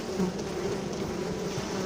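Honeybees drone steadily on a brood frame, with new bees hatching, a close, continuous, even hum with no break.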